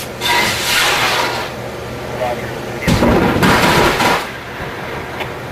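A research rocket launched to trigger lightning, heard as a booming roar around the launch after a spoken countdown, loud and rumbling, with a second sharp burst following, over outdoor background noise and voices.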